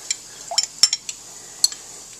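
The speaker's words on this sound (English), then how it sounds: "Stir your slurry." A utensil stirs a slurry in a bowl for a stuffed meatloaf sauce, making a few light, scattered clinks and scrapes against the bowl, close and quiet.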